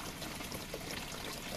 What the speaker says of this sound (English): Water still leaking out of that one.